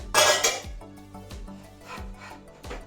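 A metal spatula scrapes and knocks against a pan while flipping an oats and egg omelette, opening with a loud rasping scrape, then softer scrapes and light taps over a low kitchen hum.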